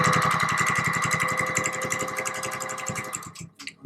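A Singer 1200-1 sewing machine running at high speed, a rapid, even mechanical chatter of stitches heard up close before it slows and stops.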